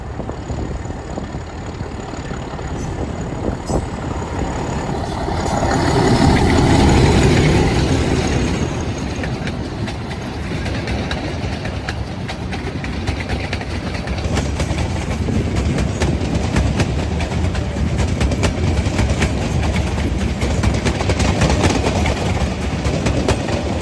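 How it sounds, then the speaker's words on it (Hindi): A meter gauge passenger train runs on the Nepalganj Road–Bahraich line, a steady rumble of wagons rolling past with faint clickety-clack, swelling briefly around the middle and holding continuous and fairly close throughout. "ये रही वो ट्रेन जो कि आखिरी बार नेपालगंज रोड से बहराइच के बीच में चल रही है"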